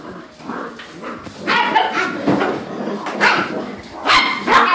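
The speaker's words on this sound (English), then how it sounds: "Crazy puppies." Eight-week-old puppies yapping and whimpering close by in bursts of high, excited barks with whiny cries between, loud and almost continuous, with a little human voice mixed in.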